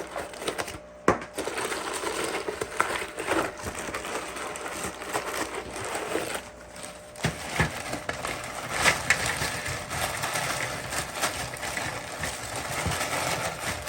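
Biomax filter media poured from its bag into an aquarium filter: a steady, close, crunchy rattling clatter of small pieces tumbling for over ten seconds, with brief gaps and sharper clicks along the way.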